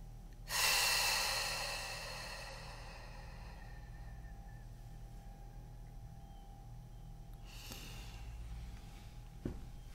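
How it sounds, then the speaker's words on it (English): One long, slow breath out through pursed lips, a close breathy hiss that swells and then fades over about two seconds, followed by near quiet with a faint second breath later. "Long and slow through pursed lips, like you're breathing out through a straw."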